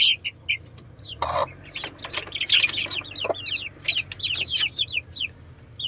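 Native Filipino chickens and month-old chicks cluck in short, repeated calls over a low farmyard hum, several birds close by with overlapping chirpy notes.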